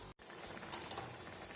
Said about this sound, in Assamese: উতলি আছে এয়া